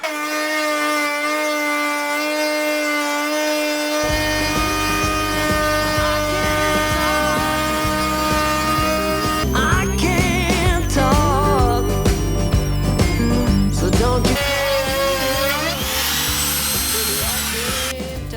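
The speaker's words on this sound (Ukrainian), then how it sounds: "Так, тепер встановив паралельний упор." A Pro Craft handheld wood router runs with a parallel fence attached, cutting wood in a joinery workshop. Its motor drones steadily and close by and grows louder and rougher through the middle of the cut, over a constant tonal background.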